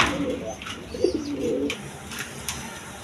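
A pair of tiger Denis and red tiger Denis pigeons at a pigeon seller's, giving soft, low cooing in a couple of close phrases over faint background noise.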